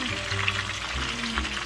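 A whole chicken fries in oil in a pan, giving a close, continuous sizzle and crackle with a few brief bumps and stirring knocks.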